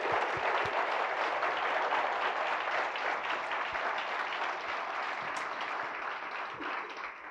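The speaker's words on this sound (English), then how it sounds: "So if anyone from the city staff team is here, please stand to deserve a round of applause." Sustained applause from an audience at a city address for city staff, dense steady clapping filling the room for several seconds, gradually easing slightly toward the end.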